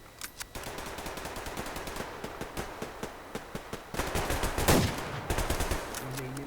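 Rapid bursts of mini-Uzi submachine gun fire in the online shooter Survarium, crackling in quick repeated volleys with a heavier cluster of shots near the end, over steady game background noise.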